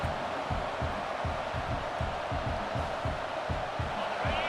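Steady, full-throated stadium crowd roaring in the College Football 26 video game, a dense wall of cheering with rhythmic low thumps underneath, loud and continuous throughout.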